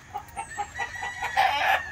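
Chickens in a farm breeding pen crow and cluck in quick repeated bursts, fairly close and clear over a low background hum.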